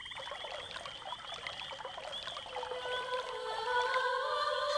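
Water from the river Helikon is poured onto a dryad in the video game Quest for Glory 5: a continuous trickling pour, layered with bright sustained chiming tones.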